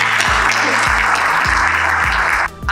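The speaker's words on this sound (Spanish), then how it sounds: "pido otro aplauso para ellos" Audience applause at a debut event for a rural storytelling project, a dense, loud, sustained clapping that fills the clip and then fades at the end, with music-like low tones underneath.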